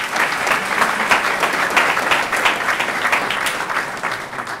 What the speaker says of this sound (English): a big round of applause for her